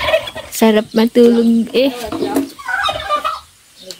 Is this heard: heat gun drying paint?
no